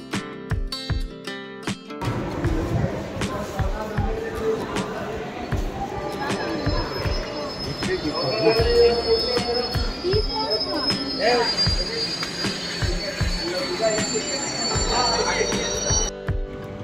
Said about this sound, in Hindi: हमारी ट्रेन आने वाली है।